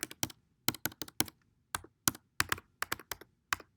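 Close, crisp keystrokes on a computer keyboard as a card number is entered, irregular bursts of clacks in small clusters with short pauses, no voices.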